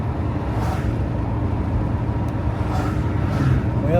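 Old car cruising through the town of Ringgold, a steady low engine drone and road rumble from inside the cabin, fairly loud and continuous with faint whooshes of passing air.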